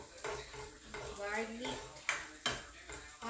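Garlic browning in a pan for chicken fried rice, a faint sizzle under a few clinks and scrapes of a utensil against the pan, with a voice talking softly.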